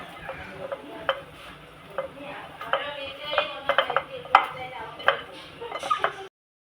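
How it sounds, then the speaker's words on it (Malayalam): Chopped bitter gourd being mixed with salt by hand, heard close as irregular soft rustles and crisp little clicks that come in uneven bursts, with no talking. "പാവയ്ക്ക അരിഞ്ഞതിലേക്ക് കുറച്ച് ഉപ്പ് ചേർത്ത് നന്നായിട്ട് മിക്സ് ചെയ്ത്"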